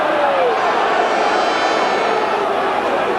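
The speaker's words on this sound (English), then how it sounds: "the crowd are booing" A rugby stadium crowd boos loudly and continuously in a 1992 South Africa versus Australia match, a dense wall of voices with no pauses.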